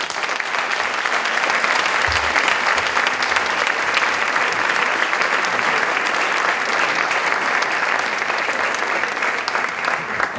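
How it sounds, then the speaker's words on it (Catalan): Loud, sustained applause from a festival audience at an evening summer party at a country farmhouse in Cubelles, Catalonia. Dense, even clapping fills the whole stretch without a break. "sisplau, un fort aplaudiment per ells."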